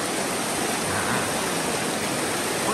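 Fast, turbulent river water rushes loudly and steadily as people wade across it on foot, a dense continuous roar with no speech.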